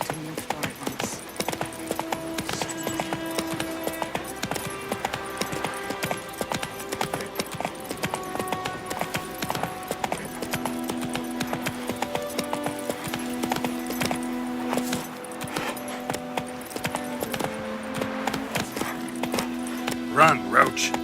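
Hoofbeats of Roach, Geralt's horse in The Witcher 3, clop steadily through the whole stretch under continuous orchestral game music, at a moderate, even gallop pace.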